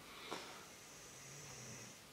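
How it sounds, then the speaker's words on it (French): A dog's faint, low snore rumbles softly in a quiet room, one slow drawn-out breath with a brief sniff near the start. "vous allez écouter le chien ronfler à la vidéo"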